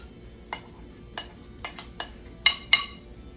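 Tomato and avocado salsa with corn tossed in a bowl, giving six sharp clinks of a utensil against the bowl spaced irregularly, the last two louder, over a quiet background.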